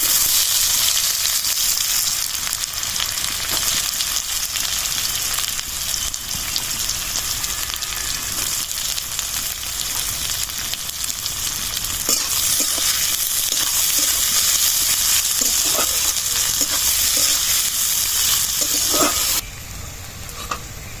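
Whole cumin seeds and chopped onion fry in hot oil for a Bengali fish curry, giving a steady, dense sizzle that runs throughout with no talk, then drops slightly near the end.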